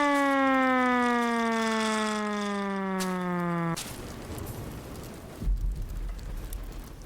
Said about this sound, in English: maybe that's just a test siren